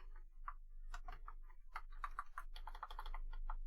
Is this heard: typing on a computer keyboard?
yes